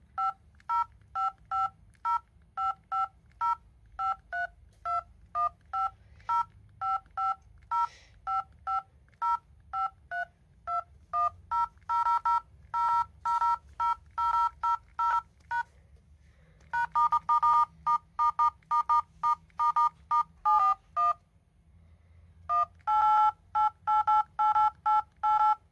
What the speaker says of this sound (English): today I'm going to show you how to play Shape of You on dial pad